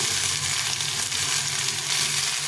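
Cauliflower stalks and other vegetables fry for a small-fish chorchori in a pan, giving a dense, steady sizzle that holds close and even throughout, with no talk.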